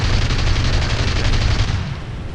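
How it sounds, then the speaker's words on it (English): Machine guns of a Bf 109 F-4 trop fighter over Malta in War Thunder hammer out a loud, rapid, continuous burst of rounds, close and forceful, fading slightly at the end. "Now I fire a few more rounds, they go over the top of him."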